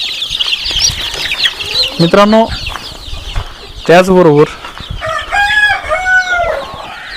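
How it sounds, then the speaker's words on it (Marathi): In a free-range poultry shed holding hens and young chicks, chickens cluck and a rooster lets out loud, drawn-out crows, while someone talks over the birds. "इथं कोंबड्यांची पिल्लं आहेत"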